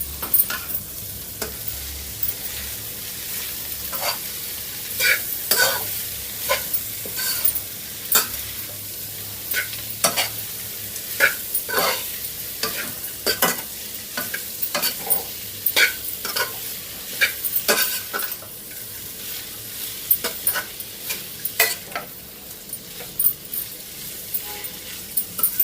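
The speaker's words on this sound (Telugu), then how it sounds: "బాగా ఫ్రై చేసుకొని ఇంకా పక్కన పెట్టేసుకోవాలి." Cluster beans with curry leaves frying in a pan, a continuous close sizzle with frequent clinking and scraping strokes of a spoon stirring throughout.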